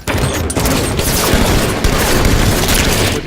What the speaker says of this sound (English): walking into a grenade there, and we're talking grenades here